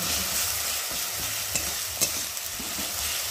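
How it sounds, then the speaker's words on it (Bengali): Mustard-based sour tok with turmeric, salt and green chilli being sautéed in a pan, a steady sizzle under a few scattered scrapes and clinks of stirring, close and alone. "একটু ভালো করে কষিয়ে নেব"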